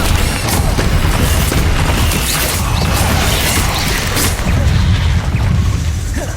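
Bombarda explosion spell in Hogwarts Legacy, a loud rumbling blast with crashing debris and heavy low booms rolling on for several seconds.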